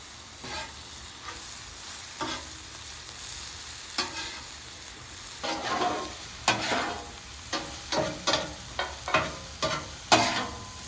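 Butter sizzles on a Blackstone flat-top griddle under a soft continuous hiss, with a run of sharp metal spatula taps and scrapes that grow frequent near the end.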